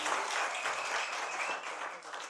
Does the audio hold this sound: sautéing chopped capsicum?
no